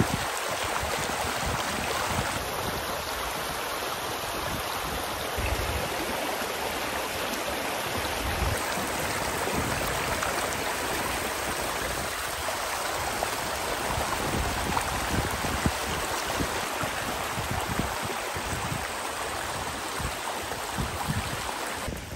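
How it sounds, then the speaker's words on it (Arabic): Water of a stream flowing outdoors, a steady, full rushing wash with no break and no voices. "أسمع صوت الماء"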